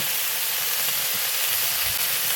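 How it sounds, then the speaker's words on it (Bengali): Jackfruit and potato pieces fry in hot oil in a pan, producing a dense, even hiss that holds at one level for the whole moment with no talking. "এই কাঁঠাল এবং আলু দুটোকেই আমি ভেজে নেব"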